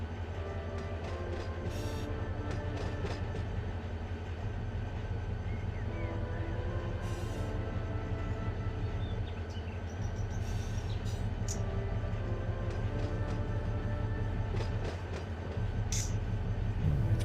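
A locomotive in the Run 8 train simulator rumbles steadily with a deep, continuous engine drone and rail noise, loud and close throughout, with occasional faint clanks and squeals above it.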